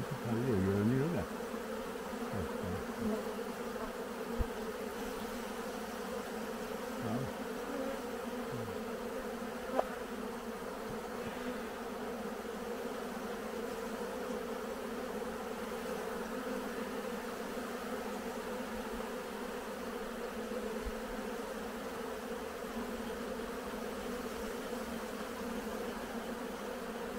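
Caucasian honey bees in a hive at the end of the honey season hum in a dense, continuous buzz that holds steady throughout, with faint outdoor background and occasional small knocks.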